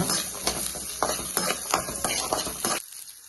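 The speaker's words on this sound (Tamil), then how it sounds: "சின்ன வெங்காயம் சேர்த்துக்குங்க அப்படியே கொஞ்சம் வறுத்து விடுங்க" Cumin, chana dal and small onions frying in oil in a pan for a village-style tomato curry, with a spoon stirring and scraping through a sizzling crackle, loud and close, ending abruptly.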